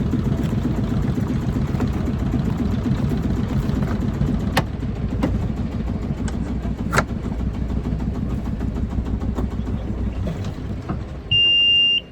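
A sailboat's inboard engine runs at a steady idle, a continuous low chugging drone that fills the whole stretch, with a few sharp clicks and a brief high tone near the end.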